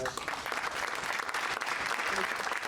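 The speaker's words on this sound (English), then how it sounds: "I want to give another round of applause to our amazing panelists." Sustained applause from an audience after a panel discussion at a Black History Month fireside chat, steady and dense clapping throughout.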